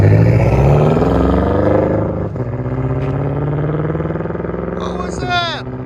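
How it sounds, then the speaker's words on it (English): A BMW M5 with a resonator delete and valved exhaust launches with a loud, droning harmonic roar that holds steady, then ends with a quick rising chirp, with voices heard over it. "BMW M5 with a Res delete. It's got valves, so straight pipe basically."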